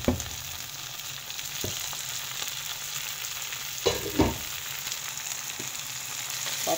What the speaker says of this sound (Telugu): కొత్తిమీర సెబ్ది ఆకు 2 ఫ్రై చేసుకున్నాం.